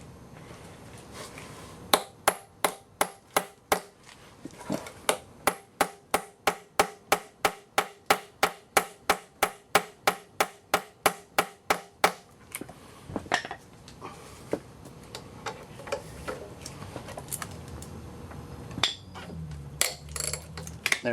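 Steady, evenly spaced hammer blows drive a bolt extractor into a stripped timing belt bolt: about two dozen sharp metallic taps over ten seconds, then sparser clinks and rattles, close and clear.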